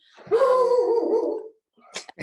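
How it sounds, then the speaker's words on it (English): A dog named Odin gives one long, drawn-out howling bark close by, followed by a few short, sharp yips. No one speaks over it. "I apologize for the dog."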